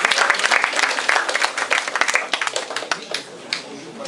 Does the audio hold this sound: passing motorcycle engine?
no